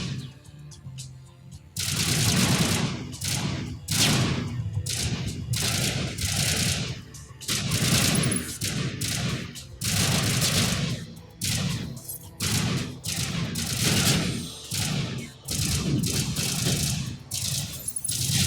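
Sustained bursts of automatic gunfire from a firefight in Mass Effect: Legendary Edition, loud and close, repeating in rapid volleys with brief gaps between them, with a voice now and then under the shooting.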